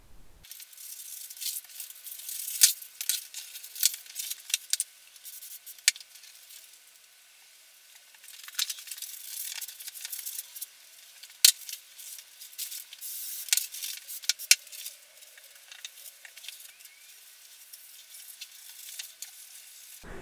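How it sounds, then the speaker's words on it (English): Spray adhesive hisses onto paper templates for mounting on half-inch MDF in a workshop, in short repeated bursts with quiet gaps between them and faint handling rattles, close and fairly soft. "I will then spray mount them onto this piece of half inch MDF"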